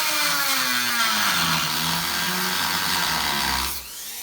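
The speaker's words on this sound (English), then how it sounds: "I might carve out that little piece of tile." Loud, steady whine of a power tool cutting through wall tile around a shower valve, its pitch slowly sliding down and wavering before it cuts off near the end.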